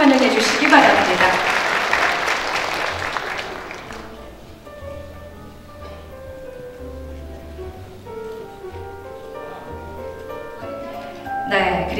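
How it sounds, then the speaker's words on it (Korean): An audience at a taekwondo demonstration event in Seoul City Hall bursts into loud applause that fades out over about four seconds, followed by quiet room tone and a faint announcer's voice. "큰 박수로 환영해 주시기 바랍니다."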